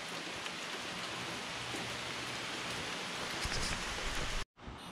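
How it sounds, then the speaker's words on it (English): Steady rain falls outdoors with a dense, even hiss close by during work on a Toro LX460 lawn tractor, continuous and loud before cutting out briefly near the end. "And here comes the rain."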